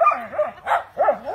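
Several dogs give short, yipping barks and whiny cries, close and loud, in quick bursts of about three over one and a half seconds, with no speech.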